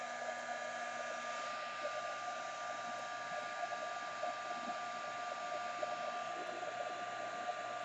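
A hair dryer blows a steady, continuous hiss with a faint whine at close range, drying paint on a canvas, with no one speaking.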